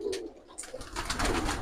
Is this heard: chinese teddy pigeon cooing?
yes